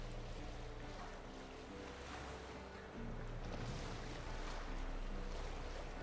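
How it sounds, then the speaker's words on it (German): Wind and a flapping boat sail on open water in The Witcher 3, a soft, steady gusting rush with low wave wash and a faint intermittent flutter, fairly quiet. "Geh aus dem Wind, das Segel flattert."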